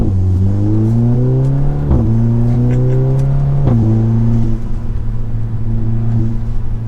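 Car fitted with a Pedal Commander throttle controller revving and accelerating under throttle, a loud close engine drone with rising pitch sweeps and brief gear-change dips, no talk over it.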